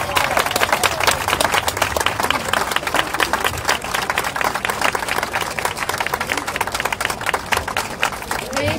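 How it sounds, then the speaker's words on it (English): Audience applause at an outdoor Pride Week proclamation ceremony, a sustained dense wash of clapping over wind noise, steady and fairly loud throughout with no break. "I take that applause for that long list."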